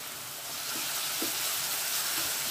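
Ginger garlic paste fries with onion paste in a hot pan for a fish curry, giving a constant close hiss. A few soft pops and clicks sound over it.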